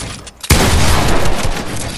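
Gunfire in the video game Fortnite erupts suddenly about a quarter second in, a loud, dense burst of shots that carries on steadily to the end.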